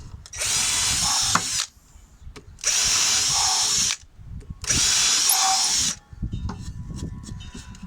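A Ryobi drill with a 3/16 black oxide bit bores into wood three times, each a loud close whirring burst of about a second and a half separated by short pauses with light handling noise.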